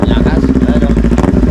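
A motorcycle engine warms up near the sea, its steady, loud, throbbing idle running continuously up close without pause.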